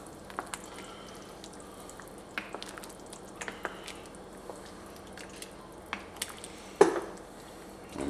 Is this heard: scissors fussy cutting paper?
no